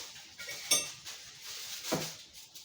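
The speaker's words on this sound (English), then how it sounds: "now I'm going to line my plate with foil" Foil being laid and pressed onto a plate in a kitchen while preparing okra: two sharp crinkly rustles with faint clinks between them, quiet and close.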